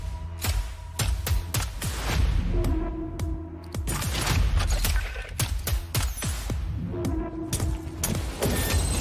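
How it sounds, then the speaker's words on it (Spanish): Rapid gunfire and thudding impacts from a shooter video game trailer, bursts of sharp shots and booms packed closely together over several seconds with mechanical clicks between, moderately loud with no voices. "Juego de disparos. Voy. Más disparos, voy."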